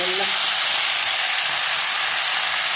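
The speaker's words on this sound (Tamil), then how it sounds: "இப்போ மோரில் ஊற வச்சு பிரண்டை போட்டு வதக்கலாம்." Pirandai (veld grape) soaked in buttermilk is sautéed with lentils in a hot pan for chutney, giving a constant close sizzling hiss.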